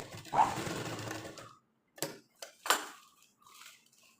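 An electric sewing machine stitches the sides of a lining churidar. A close, steady whirring run lasts about a second and a half, followed by several short, quick bursts and pauses.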